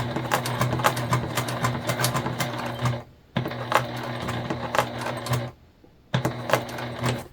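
Sewing machine stitching fabric forward and then back-stitching, a rapid mechanical clatter over a low motor hum in two bursts, each stopping into silence, close and loud with no speech.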